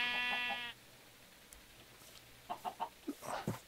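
Sheep in the Minecraft modpack Life in the Woods Renaissance, a short bleat followed by several quick animal calls and clucking sounds near the end, set against a faint background.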